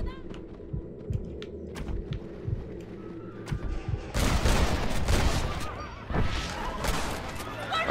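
Gunfire breaks out in Red Dead Redemption, first scattered sharp shots over a rumbling background, then a dense, loud volley of overlapping blasts that continues to the end, with voices mixed in underneath.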